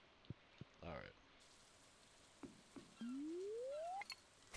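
Steady soft hiss of rain falling in the farming game Stardew Valley, with a few short game clicks, a brief chirp and a long rising electronic tone over it.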